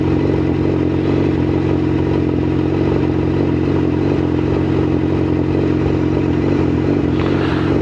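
A motorcycle rides steadily through Birmingham city centre, a continuous loud engine drone with some clatter and a slight rise in pitch toward the end, close to the mic.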